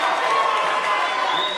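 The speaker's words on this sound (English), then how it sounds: "he's got this crowd rocking and rolling in this game right now" A packed gym crowd roars at a high school boys basketball game, a loud continuous wall of cheering and shouting with no distinct breaks, filling the whole moment.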